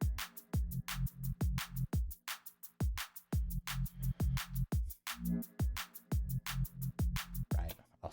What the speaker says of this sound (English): I used this bass line also from Jest's Serum preset pack on DNB